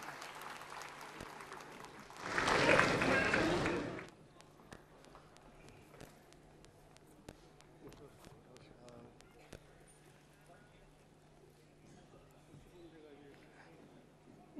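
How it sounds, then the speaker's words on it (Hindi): A short burst of applause from a crowd at a Hindi poetry gathering swells for about two seconds, then fades into a quiet room with faint murmurs and scattered sounds. "जरा जोरदार तालियों से"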